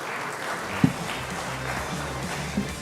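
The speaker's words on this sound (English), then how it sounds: "A round of applause." Applause at a green fuel conference fills a hall, moderate and steady, with a couple of louder knocks standing out and faint voices beneath.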